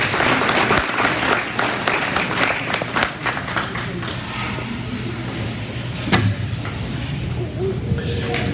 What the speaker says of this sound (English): Let's give these young ladies a real nice round of applause.